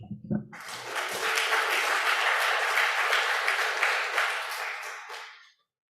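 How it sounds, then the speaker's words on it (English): A packed audience at a youth poetry ceremony gives loud applause that swells quickly after a short burst of voices, holds steady for about four seconds, then fades out. "So please clap for Eve."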